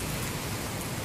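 Steady rain pours down during a storm, a dense, even hiss filling the whole moment without any voices.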